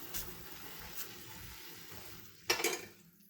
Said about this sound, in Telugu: చూడండి, వాటర్ అనేది మసులుతుంది కదా